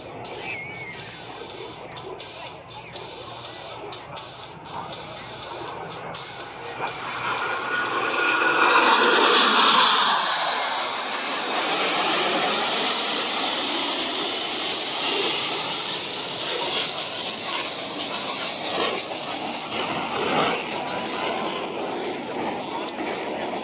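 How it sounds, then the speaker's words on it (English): A four-plane aerobatic diamond formation roars through a low brake cross at an air show in Terre Haute, engine drone swelling to a loud close pass mid-clip before settling into a steady, distant hum. "Commander Armitage is rolling out the diamond formation for another dynamic maneuver, the low brake cross"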